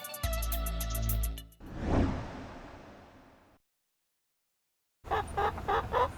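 Chickens clucking and squawking in short, close bursts in central Atlanta, Georgia, following a musical passage and a pause of silence.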